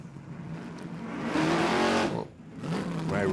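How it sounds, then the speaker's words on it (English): Drag race car at Willowbank Raceway in Queensland revving hard in an aggressive dry hop while creeping toward the staging beams after a smoky burnout, a loud close engine roar that swells, dips briefly, then surges again. "Ray Ross, that big aggressive dry hop there as he moves into closer towards stage after the big smoky burnouts"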